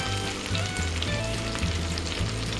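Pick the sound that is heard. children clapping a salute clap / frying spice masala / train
frying spice masala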